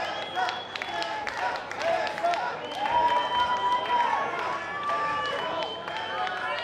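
Wrestling crowd cheering and applauding for Tessa Blanchard during a long match, a continuous roar of clapping and shouting with a commentator's voice running over it.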